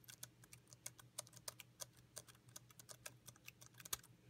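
Rapid, irregular clicks of a Braille keyboard, a HumanWare Brailliant BI 32, being typed, close and fairly quiet, with a steady low hum underneath.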